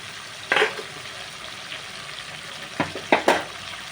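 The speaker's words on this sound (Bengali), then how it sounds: "চিংড়ি মাছগুলো দিয়ে এই মশলার সাথে এটাকেও আমি নাড়িয়ে কষিয়ে নিচ্ছি" Shrimp cooked with spices and banana flower sizzle faintly in a pan, broken by a few sharp scraping stirs of a spatula, one early and a quick cluster later; close, no talking.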